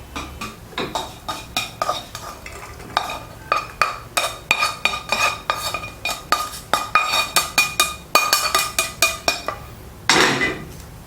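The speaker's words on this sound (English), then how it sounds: "Once the egg yolk is cooked, remove it from the pan." A cooked egg yolk is scraped out of a frying pan while making Yang Chow fried rice, giving a quick run of metallic scraping and clinking of a utensil against the pan. The strokes come close and fairly regular, with no talk.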